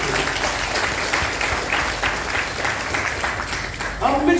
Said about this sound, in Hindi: तो जोरदार तालियां बनती है आपके लिए कैंगन वाटर के लिए।